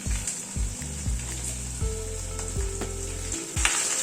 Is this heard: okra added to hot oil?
yes